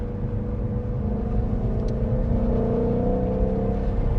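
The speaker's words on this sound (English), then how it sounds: "It's almost like the engine sounds so good that you just want to go." A sports car engine rumbles loud and close, a steady low growl that builds slightly in pitch as it revs, with no voices over it.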